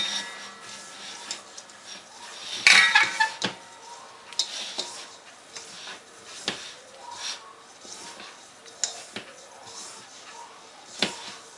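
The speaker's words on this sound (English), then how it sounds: "Mix it together with a fork or your hand until it resembles some coarse crumbs." A fork scraping and tapping through a crumbly pie crust mixture in a bowl, giving soft irregular rasps and clinks that are close and fairly quiet.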